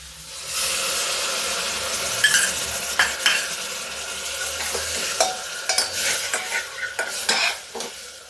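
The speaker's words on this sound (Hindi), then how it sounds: "अब डाल देते हैं मसाले।" Spices tipped into jackfruit curry in a cooking pot, sizzling with a steady hiss while being stirred, with a quickening run of spoon scrapes and clinks toward the end.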